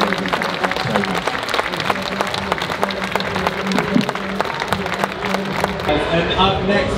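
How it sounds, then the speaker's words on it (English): Audience applause at a fitness expo stage after a talk by strongman brothers Tom and Luke Stoltman, a steady dense patter of many hands clapping throughout, under background hall noise and some voices. "Join me in giving the biggest round of applause to Tom and Luke Stoltman"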